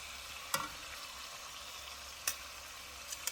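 Beef shanks going back into a pan of softened tomatoes bring a faint, steady low sizzle, broken by a few sharp clicks and clatters from the pan, with no talking.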